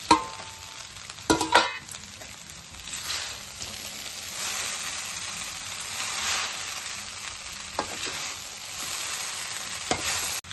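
Scrambled egg is stirred into egg noodles in a frying pan over the flame, a steady sizzle with scraping stir strokes and sharp utensil knocks against the pan, loudest near the start, with no speech.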